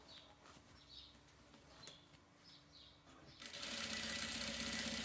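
A sewing machine stitches fabric for a child's romper, starting abruptly after a quiet stretch with faint scattered sounds and then whirring steadily and close until the end.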